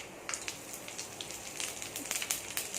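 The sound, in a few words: mustard seeds spluttering in hot oil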